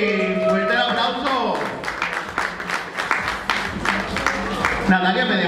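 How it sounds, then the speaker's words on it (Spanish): An audience applauds the third-place finisher Natalia Collins at the Swimsuit Sensation 2017 pageant, a broad wash of clapping running beneath a loud voice and music. "Fuerte el aplauso."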